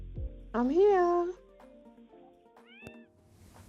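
An 8-month-old ginger cat, heard through a doorbell camera, lets out a loud, drawn-out meow, followed by a shorter, fainter second meow after a quiet pause.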